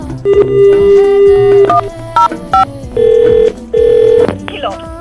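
An electronic phone ringtone plays a few repeating melodic beeps over a music-like background, with a voice briefly audible.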